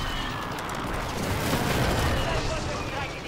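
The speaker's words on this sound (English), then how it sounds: "Mortar right above us, right above us, right here." Mortar strike in the video game Call of Duty on Rebirth Island, a dense rumbling explosive barrage swelling in the middle, loud and close, with gunfire and booms under a steady noisy wash.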